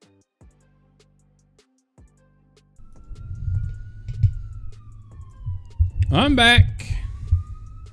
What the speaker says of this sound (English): if you guys can hear the sirens in the background.